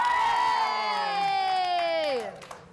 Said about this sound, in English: You can scream and shout if you want.